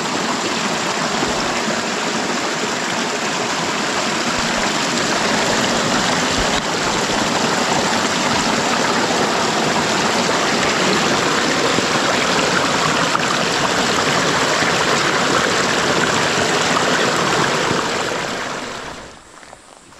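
A forest stream rushes and burbles steadily nearby, a constant loud flow that fades out abruptly at the very end.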